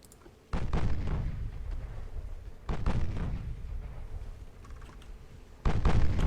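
Naval guns or torpedo salvos in Ultimate Admiral: Dreadnoughts boom out in three separate heavy bursts, each a sudden loud thump followed by a rumbling decay.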